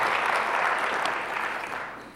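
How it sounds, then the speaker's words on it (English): Audience applauding at a mayor's State of the City address, a dense burst of clapping from a crowd that fades out over about two seconds. "let's give them a round of applause."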